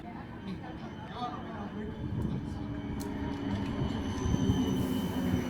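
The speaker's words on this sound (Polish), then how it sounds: "My czekamy na kolejny tramwaj." Tram on the Kusttram coastal line in Belgium, arriving with a low rumble that grows steadily louder, with faint squealing wheels near the end.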